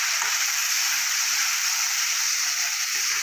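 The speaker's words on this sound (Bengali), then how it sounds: "এবার ওই যে মশলাটা পেস্ট করে রেখেছিলাম সেটা আমি দিয়ে দেবো, আদা রসুন কাঁচা লঙ্কা আর পেঁয়াজ।" Paste of ginger, garlic, green chili and onion frying in a pan, giving a steady, loud, bright sizzle that stays even from start to finish, with no voices.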